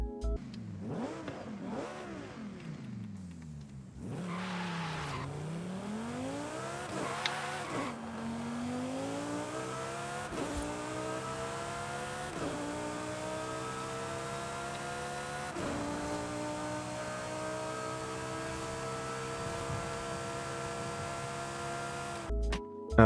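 A Lamborghini V10 engine in Forza Horizon 5 revs up through a series of gears, with a loud, continuous rising wail broken by brief dips at each upshift.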